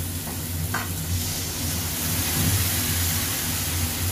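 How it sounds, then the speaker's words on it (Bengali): Spice paste for Bengali chicken curry hits hot oil, giving a steady loud sizzle with stirring scrapes throughout, no voices. "এবার এই মশলাটা আমি দিয়ে দেবো।"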